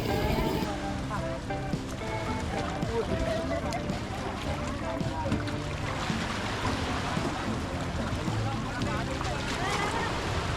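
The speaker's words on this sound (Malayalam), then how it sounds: "ചെറിയ ബോട്ടുകൾ തീരത്തേക്ക് അടുത്തു." Small boats nearing the shore of an island in the Arabian Sea, a low engine drone mixed with lapping water and wind, with voices murmuring in the background throughout.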